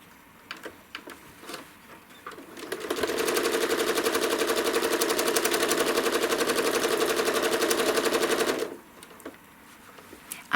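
A sewing machine stitches a spiral curve into fabric pinwheel blades with gray-green thread, running in one steady rapid whir for about six seconds, bracketed by fainter handling clicks before and after.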